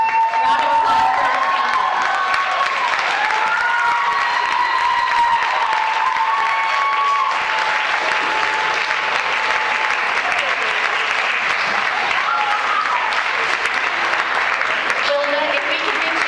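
Loud, sustained applause and cheering from an audience at a high school academic decathlon event, with whoops and voices carrying over steady clapping that runs through the whole stretch.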